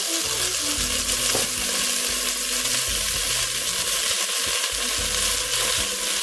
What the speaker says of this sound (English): I want to add my onions to the pan.